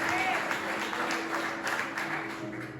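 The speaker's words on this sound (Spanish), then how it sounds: "denle un fuerte aplauso a la gloria de Dios" Congregation applause at a Sunday church service, moderate clapping under the preacher's voice as he continues speaking through a steady hum, fairly distant and reverberant.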